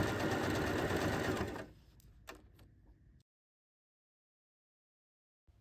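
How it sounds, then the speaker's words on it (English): A sewing machine runs steadily, stitching pinned seams of a tote bag, then stops. A few light clicks and handling noises follow before near silence. "sew the pinned areas"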